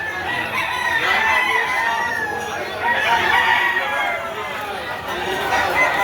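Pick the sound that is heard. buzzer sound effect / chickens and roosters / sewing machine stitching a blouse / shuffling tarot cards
chickens and roosters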